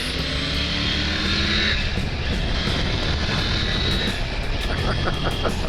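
A 2022 Triumph Tiger 900 Rally Pro motorcycle cruising in sixth gear at around 3,000 RPM, its engine a steady, continuous drone mixed with wind rush throughout, loud and unbroken.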